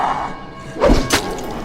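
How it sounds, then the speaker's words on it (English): A sticky bomb detonating on a zombie in the Dead Island game, a heavy thud followed by a sharp crashing burst and a brief rumbling tail, loud and close. "So when you throw it towards an enemy, it's going to explode when it gets stuck in the zombie."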